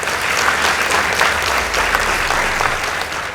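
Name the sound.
applause for Coast Girls High School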